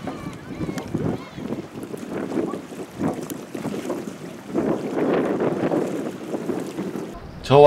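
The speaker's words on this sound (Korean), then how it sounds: "근데 바람이 장난 아니었습니다." Strong, gusty winter wind buffeting the microphone by the sea at Oido, South Korea, rumbling and surging in bursts, with muffled voices underneath.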